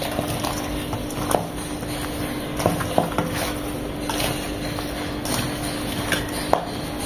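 Raw mango pieces are worked together with spices by hand for a dry pickle, a continuous close rustling squish broken by a few soft knocks against the bowl, with no talking.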